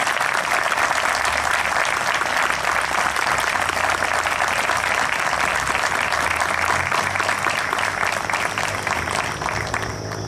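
Audience applause at a civic presentation of a Virgin statue at a city entrance, steady dense clapping filling the whole stretch and easing slightly near the end.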